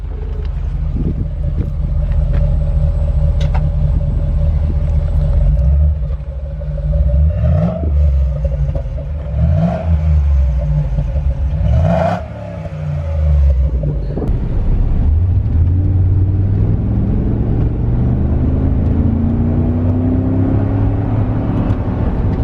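A Chevrolet Trailblazer SS engine with a new stainless steel exhaust idles with a steady low rumble, then revs sharply three times, each rev rising and falling; the engine then settles into a lower, uneven rumble.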